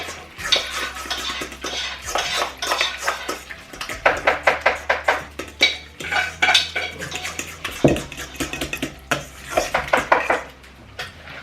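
Food being mixed in a bowl, with rapid rhythmic clinks and scrapes of a utensil against the dish in quick bursts, close and fairly loud throughout.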